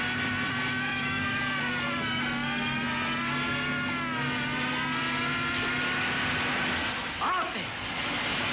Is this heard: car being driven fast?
yes